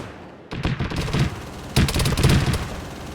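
A Zeus cannon fires loud, rapid automatic bursts in an Arma 3 battle, with two dense volleys crackling close by in quick succession.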